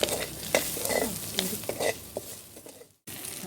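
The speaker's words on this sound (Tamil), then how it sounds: "அதையும் கொட்டி தாளிச்சிடலாம் நல்லா." Sliced small shallots tempering in hot oil over a stone stove for pomfret fish kulambu, a steady loud sizzle broken by repeated scraping stirs, then a brief drop to near silence before the frying resumes.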